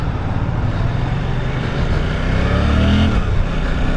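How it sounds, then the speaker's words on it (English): A Suzuki GSX-8R motorcycle rides off with a continuous, close engine roar that rises slightly as it accelerates, steady wind and road noise blended in throughout. "what do you say we get this bike out for a little bit, take it for a cruise"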